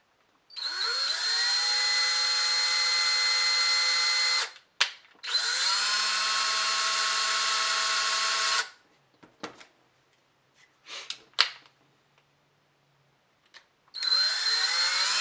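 A power drill whines at high speed in two long bursts while driving a thread tap into a model box car, then stops for some clicks and handling noises before starting up again.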